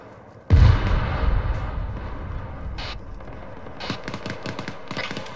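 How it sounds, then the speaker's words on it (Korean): Gunfire in the ArmA 3 military shooter during a sandstorm mission: one loud, heavy blast booms out and rumbles, then lighter rapid shots crack in scattered bursts farther off. "총소리 노스에서 노스 이스트인 것 같아요"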